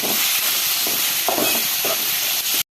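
Tomatoes and onions sautéing in a hot pan, a dense continuous hiss with a few soft stirring scrapes, close and loud, cutting off abruptly at the end.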